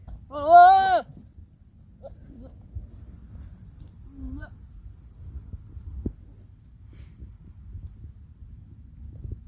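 A white Savanna goat buckling gives one loud, wavering bleat at the start, then falls quiet, leaving only faint low rustling and farmyard background.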